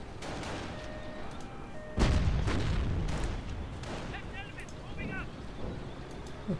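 Mortar and artillery fire in Company of Heroes, a heavy boom at two seconds followed by scattered blasts and battle noise under an ongoing commentator's voice.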